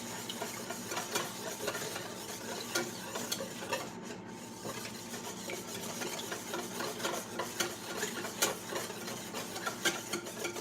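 Dough for homemade dog biscuits is being stirred in a bowl, giving a quiet, continuous rasp broken by soft, irregular scraping ticks with nobody speaking.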